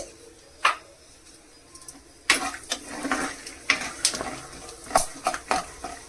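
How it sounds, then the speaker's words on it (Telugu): A handful of peanuts roasting in a dry pan, stirred with a utensil, giving a series of sharp scraping clacks and rattles at irregular intervals over a faint background, close and clear. "చిటపట అనే వరకు వేయించుకోవాలి అంతే"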